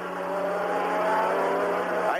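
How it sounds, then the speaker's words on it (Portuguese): Ayrton Senna's Formula 1 car at the 1984 French Grand Prix roars past with a steady high engine whine that climbs sharply at the end, while a commentator talks over it. "esse barulho que você ouviu aí foi a passada de Ayrton Senna na 11ª posição"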